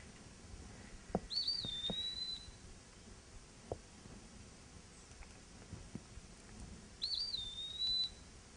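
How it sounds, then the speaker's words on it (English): An eastern wood pewee sings two clear, slurred whistled phrases several seconds apart, fairly near, over quiet woodland with a few soft knocks. "So this is our eastern wood pee-wee."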